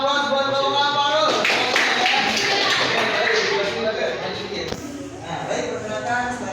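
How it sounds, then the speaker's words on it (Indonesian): Classroom applause for a student group, a continuous mass of hand claps lasting several seconds, fairly loud and close, with a teacher talking over the clapping. "sekali lagi kita aplaus buat kelompok Alvaro"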